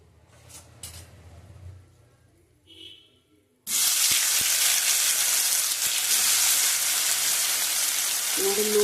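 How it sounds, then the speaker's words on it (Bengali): Potato pieces frying in hot oil, added partway through as a sudden loud, steady sizzle and hiss that holds to the end after a quieter start. "আমি আলু দিয়ে করব, তাই আলুগুলি ভেজে নিচ্ছি।"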